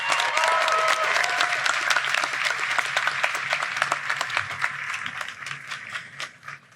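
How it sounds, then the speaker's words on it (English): A commencement audience at a law school graduation applauds for families and friends, dense sustained clapping from a large crowd that slowly thins and tapers toward the end. "Let's give our families and friends and all those here to celebrate with us a round of applause."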